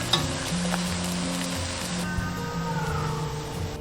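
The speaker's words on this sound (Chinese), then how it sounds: "顺便用这个油直接煎蛋" Egg frying in hot oil left in the pan after frying radish cake, a steady close sizzle with faint crackles and a few utensil clinks, no talking.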